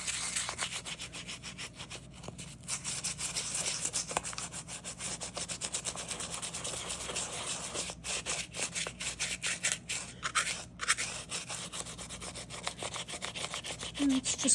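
Sandpaper wet-sands the inside of an air-dry clay thatched roof in close, quiet, rhythmic rubbing strokes that continue steadily with brief pauses and no speech.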